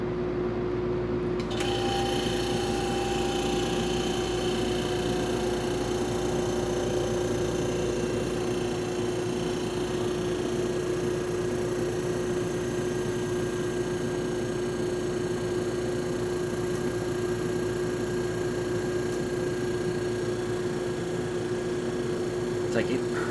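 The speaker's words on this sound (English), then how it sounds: "I'm going to switch on the compressor." A 1955 GE air conditioner's compressor starts and runs as a steady, even mechanical hum with a constant tonal drone, holding at a close, moderate level throughout without pauses.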